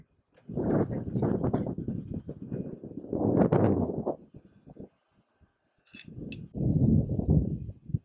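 Gusts of wind buffet the microphone in strong, rumbling bursts separated by a short lull, outdoors on a small deck.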